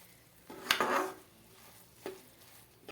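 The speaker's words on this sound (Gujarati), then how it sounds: "તો આ રીતે થોડીક વાર આપણે હલાવતા રહી અને તેને હજી પણ પકાવી લેશું." A spoon stirs grated carrots cooking down in a pan for carrot barfi, giving a few close scraping, sizzling strokes, one longer burst near the start and shorter ones spaced apart, with no talking.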